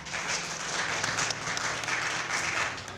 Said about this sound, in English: I don't know if that clap is sarcastic, but I'm proud of it